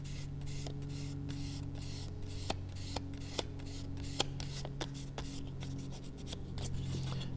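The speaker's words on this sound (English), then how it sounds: "I'm just going to sand this all down till it's smooth" Quiet, steady scratchy rubbing of sandpaper over putty on a plastic model, a close, continuous sanding stroke with occasional small ticks and taps.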